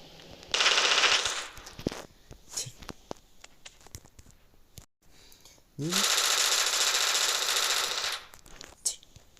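Rapid automatic gunfire in a Thai drama scene erupts in two long, loud, sustained bursts, separated by shouting voices and a brief lull.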